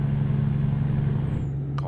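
Steady low truck engine drone in American Truck Simulator while hauling a load of timber, loud and continuous, with a faint short chirp near the end.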